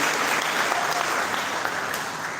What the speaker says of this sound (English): May we clap for Teso once again